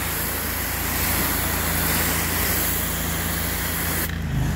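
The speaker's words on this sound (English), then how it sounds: "Now watch how I rinse this off." A pressure washer sprays a steady, loud broadband hiss of rinse water across a driveway, continuous and close for about four seconds before the spray suddenly cuts off.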